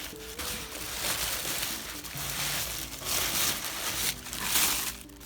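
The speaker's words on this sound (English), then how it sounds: "I normally will wrap my mug in tissue paper." Crinkly rustling of tissue paper being crumpled and folded around a pottery mug, continuous and close, with brief louder bursts of crackling throughout.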